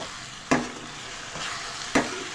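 Cinnamon, a black cardamom and cloves roast in hot oil in a pan for pearl millet (bajra) chutney, giving a steady soft sizzle broken by two sharp stirring scrapes.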